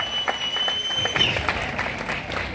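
Audience applause at a junior college gathering honouring a retiring staff member, a steady crowd clapping throughout with some voices mixed in.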